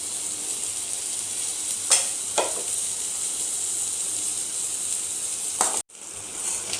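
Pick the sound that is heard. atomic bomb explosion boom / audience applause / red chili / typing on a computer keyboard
red chili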